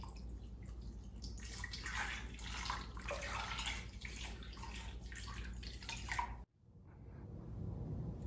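Water poured from a container into a cooking pot for Mexican pork tamales with garlic, a steady splashing gush lasting about six seconds, then a sudden cut to quieter low bubbling.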